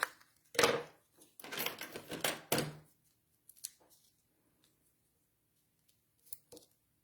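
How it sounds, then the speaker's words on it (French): Scissors cut a piece of cardstock in two for a Stampin' Up Bonheur Florissant card. A few close crisp snips and rustles come in quick bursts, then sparse faint handling clicks follow in a quiet room. "Et je vais en couper un en deux que je vais mettre ici."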